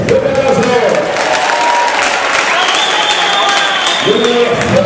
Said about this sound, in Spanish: Céspedes, fuerte aplauso.